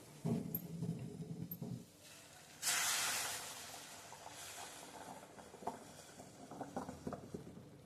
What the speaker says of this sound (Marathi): आता ह्याच्यात मी उकळतं पाणी घालते.